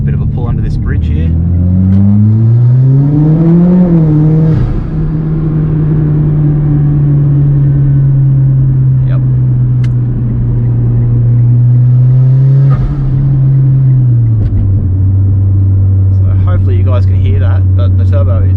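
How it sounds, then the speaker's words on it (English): A Mitsubishi Evo X with a loud turbo pulls under a bridge, its engine droning steadily close by as revs rise, dip and hold, with a whooshing turbo edge and a brief lift near the end. "But the turbo is quite loud compared to what it used to be."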